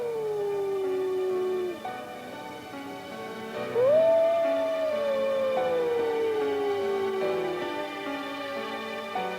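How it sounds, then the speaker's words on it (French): Wolves howl at the edge of a wood at nightfall, long gliding tonal calls rising and falling one after another, clear and fairly close, with a faint layered chorus beneath and no talking. "les loups hurlaient déjà à la lisière du bois"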